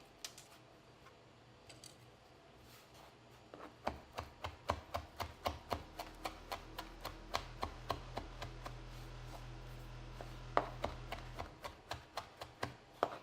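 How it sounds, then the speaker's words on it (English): A knife finely chops fresh rosemary leaves on a board, a quick run of sharp taps that gets faster and steadier midway, faint and close, with a low hum under the middle stretch. "So we're going to give these a little chop, a fine chop."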